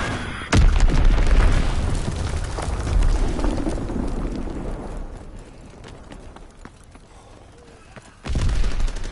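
A heavy bomb blast in a WW2 video game, a sudden loud boom followed by a rumbling decay that fades over several seconds before another loud impact near the end.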